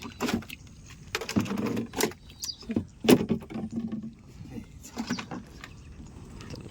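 Water sloshing and splashing around a small boat being moored and bailed out, with wooden knocks and scraping in irregular bursts.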